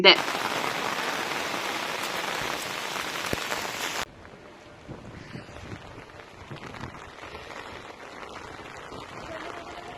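Heavy Pushya monsoon rain pours steadily in Napoklu, a dense broadband hiss that is loud at first and then drops to a softer, continuous patter with scattered drips.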